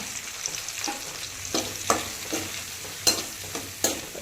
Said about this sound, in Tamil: ஒரு நிமிஷம் மட்டும் வதக்கி விடுங்க